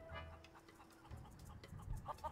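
Chickens cluck in a video game, a few short soft clucks scattered over a faint, busy background, with no talking.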